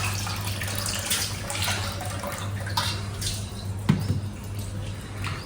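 Fish being washed with salt in water in a sink or tub: close splashing and sloshing with running water and a few drips, over a low steady hum.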